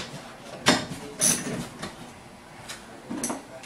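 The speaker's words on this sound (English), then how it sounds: "So now I'm setting the middle bolt." A bolt being set while installing a fire escape ladder: a few short metallic clanks and scraping mechanical clicks, spaced apart with quiet gaps, close by and moderately loud.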